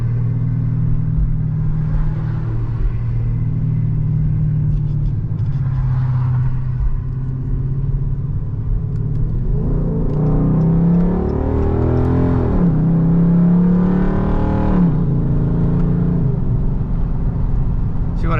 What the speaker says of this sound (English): I can shift, let's say I can shift at 2000 RPM.